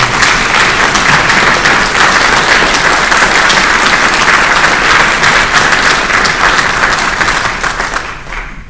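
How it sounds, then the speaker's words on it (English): An audience at a Republican primary candidate forum in Moscow, Idaho gives the candidates a big round of applause, dense and sustained throughout before tapering off at the very end. "join me in one final big round of applause for all of our candidates tonight"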